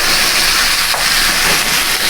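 Steak sears in a cast iron skillet with a loud, continuous broad hiss that holds steady for the whole stretch, close and alone.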